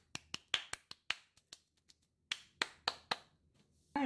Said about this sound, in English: I'm just going to clap my hands.